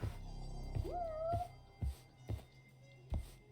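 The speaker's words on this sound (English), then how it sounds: "I heard another cat." A cat meows once in the Judgment video game, a clear rising-and-falling mew heard faintly amid rhythmic low thumping footsteps or game ambience.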